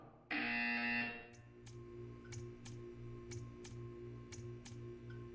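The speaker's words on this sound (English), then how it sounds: "You will hear a buzzer. When you hear the buzzer, stare at the art." A loud electronic buzzer in the video game Portal 2 blares for about a second, then a quieter steady hum continues with a regular ticking over it.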